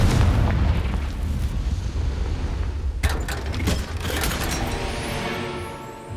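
A Confringo blasting spell in Hogwarts Legacy erupts into a loud, rumbling explosion at the start, followed by a sharp second burst and crackling debris fading out.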